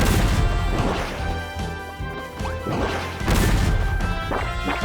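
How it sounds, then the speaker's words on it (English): In the video game Kirby Star Allies, a Zap Bomb explodes and a lightning bolt crashes down, giving loud repeated crashing blasts layered over the game's music, with no voices. "wherever it explodes, a bolt of lightning comes crashing down"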